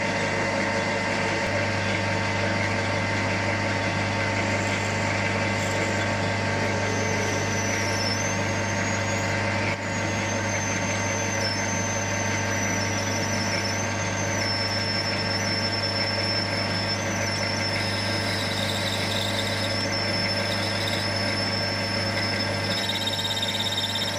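A 3/16-inch drill runs steadily in metal for a long stretch, a continuous whirring grind with a constant low hum and faint high squeals.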